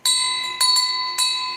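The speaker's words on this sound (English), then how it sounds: "Let's ding the bell already." A bright bell rings three times, close and loud, each strike leaving a clear sustained metallic tone that rings on until the next, with no talking.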